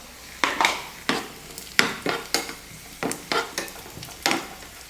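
Cashews and raisins fry in ghee in a pan for a sweet dish, with a soft sizzle under a string of sharp, irregular stirring scrapes and clinks of a spoon against the metal.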